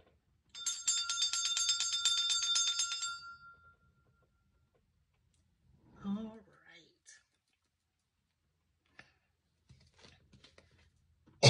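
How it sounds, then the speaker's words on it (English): A small bell is rung once, close by, giving a bright metallic ring that hangs and fades over about three seconds, followed by quiet rustling and faint breathing sounds. "once I ring this good bell"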